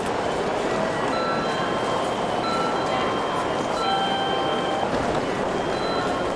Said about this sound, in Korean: 일본 도쿄의 지하철역.